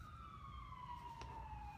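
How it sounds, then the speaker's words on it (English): A faint, distant ambulance siren wails with a slowly falling tone over low rumbling background noise after rain in Dallas. "Yep, there goes the ambulance."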